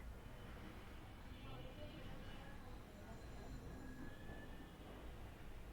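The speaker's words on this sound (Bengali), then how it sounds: "তারপরে ট্রেনটা কঠিন ভাবে ব্রেক করছে।" A train brakes hard, with a steady low rumble of wheels on rail and faint, thin metallic squeals drifting above it throughout.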